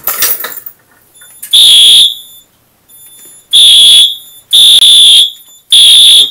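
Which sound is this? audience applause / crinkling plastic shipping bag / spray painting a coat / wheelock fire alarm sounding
wheelock fire alarm sounding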